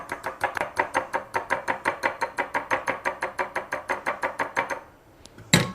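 An oregano dressing is whisked briskly in a bowl, giving about twenty-five quick, even clicks in a fast steady rhythm. They stop abruptly and are followed by a single louder knock.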